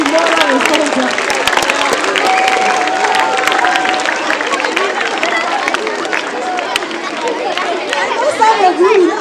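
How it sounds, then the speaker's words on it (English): A school assembly crowd claps and chatters for a certificate recipient, a loud, steady mass of hand claps mixed with lively voices and babble throughout. "Can we clap Avian Imora Waisonga?"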